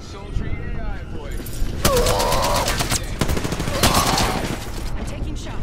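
Gunfire in Apex Legends, a battle royale shooter: rapid automatic bursts and rattling shots, loud and close, with game voices and chatter over the top.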